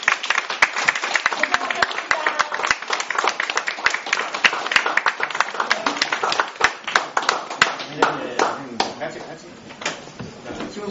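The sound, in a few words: audience applause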